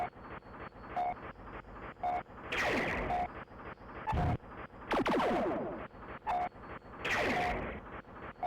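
Cannons fire repeatedly in the Ultrabots video game, loud booming blasts with roaring tails recurring every second or two over a steady rhythmic mechanical clatter.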